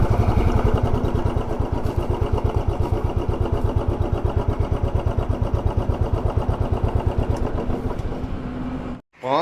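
A motorcycle engine runs steadily with a fast, regular thumping pulse while being pulled over at a roadside on a long highway ride between Guwahati and Siliguri, loud and close, then cuts out abruptly near the end.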